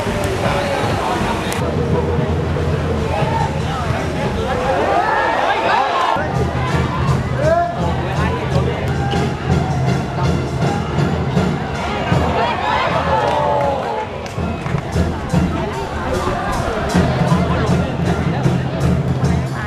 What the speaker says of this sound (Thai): ขอเสียงปรบมือให้กับทั้งสองทีม